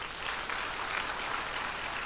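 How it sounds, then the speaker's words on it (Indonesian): Congregation applauding at a church service, a brief steady wash of clapping from many hands, fairly even and moderately loud throughout. "Beri tepuk tangan buat dia."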